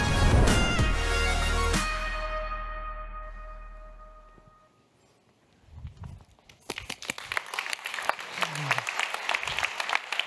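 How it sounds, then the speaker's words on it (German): A ringing tone decays into near silence, then applause at an event in Berlin starts up and builds into scattered, growing clapping with some voices. "Dieser Applaus für alle, die Urban Mind mitentwickelt haben."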